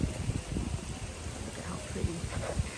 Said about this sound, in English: It is really windy, so I really hope the wind is not annoying you guys.